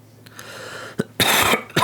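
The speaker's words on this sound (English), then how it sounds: "sorry I keep coughing" A person coughs in short bursts: a small cough near the start, then a sharp one, a longer harsh coughing fit, and a final cough at the end, all close and fairly loud.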